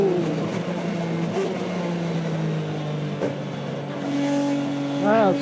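A front-wheel-drive BTCC-spec Ford Mondeo race car from 2000 revs hard toward 8,000 RPM, its loud engine note droning and climbing with gear changes, then ending on a rising wail as it is pushed.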